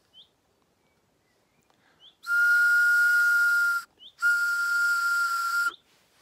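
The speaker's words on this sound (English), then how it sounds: "Fun little whistles indeed." A shrill, steady homemade whistle is blown twice in long blasts separated by a short pause, loud and close, with a few faint chirps around it.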